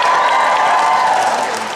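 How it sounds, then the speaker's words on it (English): Dense, steady applause from a convention panel crowd, a continuous wash of many hands clapping that tapers slightly at the end, with no voices over it. "Why am I getting John Noble applause?"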